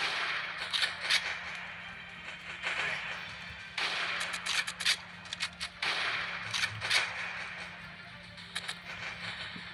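Sniper and rifle gunfire in the video game Heroes of 71 plays as sharp cracks in short bursts over a low, steady background hum, fairly faint throughout.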